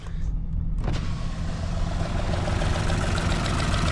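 An old tractor engine idles steadily while warming up, a loud continuous low rumble that starts up after a brief near-silence and then holds an even drone throughout.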